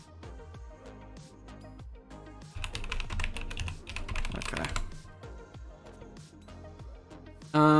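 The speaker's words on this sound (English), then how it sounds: "Keyboard sounding expensive. What you got? I think it's like a Keychron K8." Typing on a Keychron K8 mechanical computer keyboard, a steady run of close keystrokes with a louder burst midway, under game background sound and a brief spoken word.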